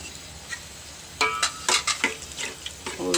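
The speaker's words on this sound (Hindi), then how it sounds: "ये प्याज डाल दी हमने, इसको चलाते रहें" Onions, tomatoes and potatoes fry in a pan, a low steady sizzle broken by a cluster of close scraping and clinking stirs from a spoon against the metal.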